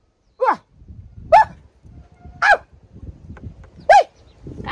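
A dog barks four times in separate, evenly spaced yelps, fairly close and loud, with low scuffling and movement noise filling the gaps between barks.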